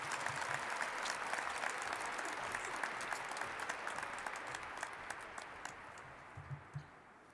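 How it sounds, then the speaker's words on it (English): Sustained applause from a large graduation audience at a high school ceremony, dense clapping filling the hall at a distance, steady and then slowly fading, with no voices over it. "Join me in a round of applause to welcome Mr."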